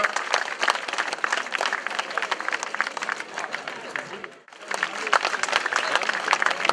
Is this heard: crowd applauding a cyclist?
yes